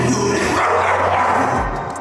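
Dogs barking in a noisy outdoor scene, a few loud yips and barks blurred into dense background commotion.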